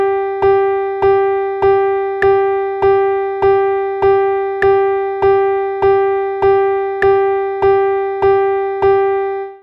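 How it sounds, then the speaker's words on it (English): Sixteen evenly spaced quarter notes repeat the same pitch at a steady moderate pulse over four measures, each with a sharp attack and short decay. "4 measures of quarter notes would look and sound like this"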